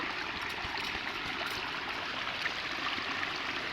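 Steady rushing flow of monsoon water pouring through a channel into a flooded paddy field, a continuous close, broadband wash with no pauses and no voices over it.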